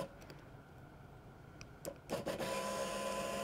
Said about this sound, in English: you can hear the fuel pump run